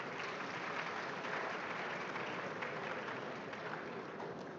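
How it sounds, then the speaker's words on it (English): A large audience gives steady, sustained applause at a Ghanaian ceremony marking 150 years since the Sargrenti War and the Silver Jubilee of Otumfuo Osei Tutu II. The clapping is dense and unbroken throughout, with no voices on top. "A round of applause for him."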